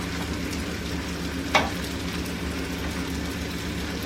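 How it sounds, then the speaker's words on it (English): Steady, quiet sizzling of beef frying in olive oil in a pan, with one brief sharper crackle partway through. "It's just gonna fry it in our olive oil here."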